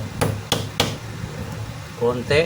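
Three sharp hammer knocks on the armature of a DeWalt DWE750S 4-inch grinder land in a steady rhythm, and a voice starts speaking just after them.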